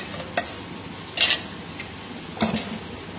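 Spinach paste goes into frying spices in a pan and is stirred, a low sizzle broken by a few short bursts of spatula scraping and clinks against the pan.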